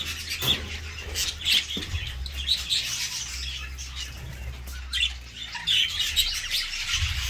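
Jumbo crested budgerigars at a breeding facility chirp and squawk in a busy, continuous flock chatter, with scattered sharp calls over a low background rumble.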